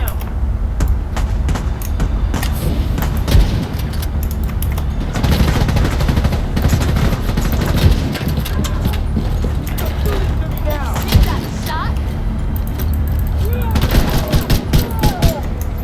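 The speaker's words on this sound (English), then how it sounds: "Shooting from the hip." Hip-fired gunfire in a video game, bursts of shots crackling through a dense, continuous layer of game action and effects, with a few louder reports standing out near the end.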